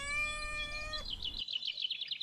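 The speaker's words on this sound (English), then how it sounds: "This is Opie, a cat who lived on Grandpa Lonnie's farm." A farm cat gives a single drawn-out meow with a bright, tonal, rising-then-falling pitch, close and clear, followed by a faint high chirping trill; no one talks.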